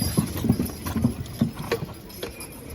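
Draft horse hooves clip-clop during a horse pulling contest in East Arcade, New York, a quick uneven series of close, hollow thuds on the ground over a faint background murmur.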